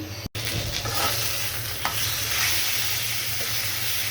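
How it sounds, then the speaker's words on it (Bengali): Rohu fish frying in a pan for a bean mash dish, giving a steady close sizzle of hot oil with faint stirring scrapes and a brief dropout near the start, no voices. "আমি সিম দিয়ে ভর্তা করব, যার জন্য মাছটা একটু ভেজে নিচ্ছি"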